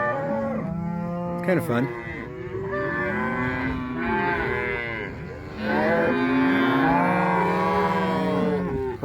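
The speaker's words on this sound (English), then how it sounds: "So there's a lot of mooing going on because the calves have arrived and they're trying to find their mamas." Cattle and calves moo repeatedly and loudly nearby on a New Mexico cattle drive, with overlapping long calls from several animals and a brief bit of speech mixed in.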